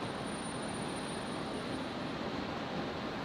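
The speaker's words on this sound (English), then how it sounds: "So we've got Qantas Link 1902 in from Canberra. Short final now on 19 left." A Qantas Link Embraer jet on short final to runway 19 left at Brisbane Airport, arriving from Canberra, gives a steady, broadband engine roar that holds level throughout with no voices.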